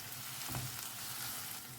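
Turmeric powder and Malvani masala sizzle steadily in oil in a pan while being stirred, giving a continuous soft crackle with a brief scrape of the spoon.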